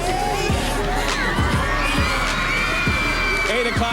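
A large crowd gathered across the street on Rockefeller Plaza between 48th and 49th Streets on a Friday morning cheers and whoops continuously, a loud, dense roar of many voices with high shouts and children's cries rising repeatedly.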